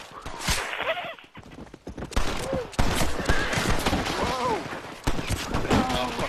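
Gunfire in the Western video game Red Dead: repeated loud shots and rapid volleys, some close and punchy, mixed with horse hooves and whinnies, while players shout and talk over the action.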